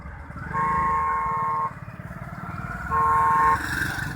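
Farmers' tractors pull off together in a rally at a grain market in Ambala, with steady engine rumble and two long horn blasts, the second one later and shorter.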